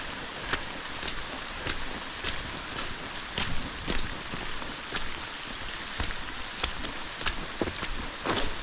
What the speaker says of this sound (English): just stand still while it's raining